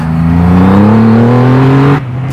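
A Triumph Rocket 3R motorcycle with a 2.5-litre engine revs hard and close, its pitch climbing steadily for about two seconds before the throttle snaps shut and the note drops to a lower idle.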